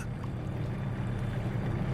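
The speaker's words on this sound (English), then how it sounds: "Carl saw a boat in the distance, clearly piloted by one of his own." Distant boat out on water in the video game Kona II, a steady low rumbling wash with lapping noise, continuous and unchanging, with no voices.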